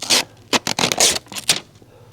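Thin-edged woodturning knife cutting wood without bevel support, giving a series of short, uneven scraping bursts in irregular rhythm, close and fairly loud with brief pauses between strokes.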